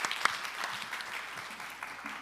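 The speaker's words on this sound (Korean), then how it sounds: "큰 박수로 맞이해 주십시오." Applause from a symposium audience welcomes a speaker, a short burst of fairly faint clapping that stays steady and then trails off.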